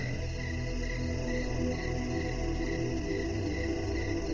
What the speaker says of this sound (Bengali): চারিদিক ঘন অন্ধকার আর ঝিঝি পোকার ডাক।